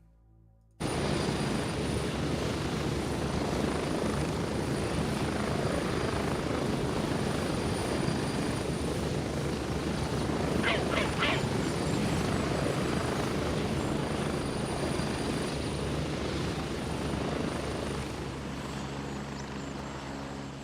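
UH-58 helicopter in flight in the game Gray Zone Warfare, a loud, steady rotor thump and engine roar from inside or near the aircraft, holding continuously for about twenty seconds with no talking.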